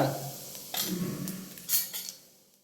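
Mustard seeds and cumin crackle and sizzle in hot oil with a few stirring scrapes, short bursts of spattering that fade toward the end.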